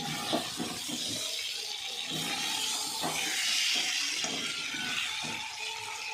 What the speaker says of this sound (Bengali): এই যে জল রেখেছি, জলটা গরম করে রেখেছিলাম, ঢেলে দিই।